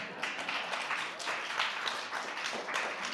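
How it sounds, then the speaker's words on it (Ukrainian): Audience applause at a summit held at the US Capitol, with steady dense clapping at an even level throughout and no talk. "Аплодуйте, аплодуйте."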